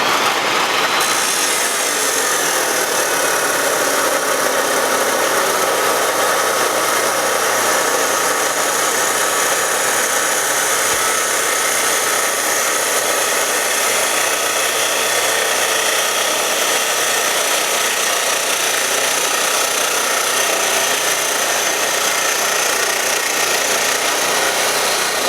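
A cheap Makita saw cuts through 2x3 rectangular steel tubing with about a 1/4 inch wall, giving a loud, steady, high-pitched grinding screech that runs unbroken for the whole stretch with no talk.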